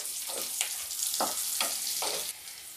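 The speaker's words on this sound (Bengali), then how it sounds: "পেঁয়াজগুলোকে একটু ভালোভাবে ফ্রাই করে নেব" Large-cut onions frying in a pan for chilli prawns, a steady bright sizzle with several soft stirring scrapes, close by, no talking.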